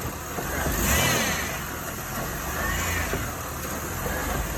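An old, broken-down Chevy Impala's engine drones steadily while driving after being shifted out of reverse, the revs rising and easing in gentle swells under broad road and wind noise, with no talking.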